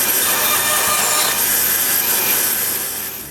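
A domino joiner plunges into wood, cutting 8 mm mortises, giving a loud, steady broadband machine whine with a grinding, rasping texture that holds throughout and eases slightly near the end, with no voices.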